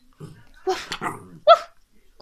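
A pet dog gives a couple of short, sharp barks on command during an indoor unboxing of a pet-supply parcel. The barks are close and are separated by quiet gaps.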